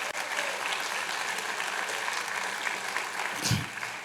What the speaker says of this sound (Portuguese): Dê glória e bate uma salva de palmas para Jesus.